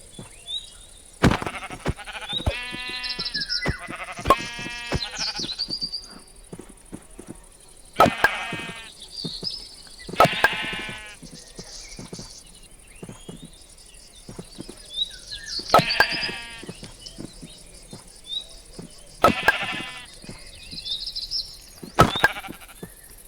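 Sheep in the Minecraft video game bleat over and over, loud wavering cries that come in clusters with short silent gaps between them, and some sharp clicks mixed in.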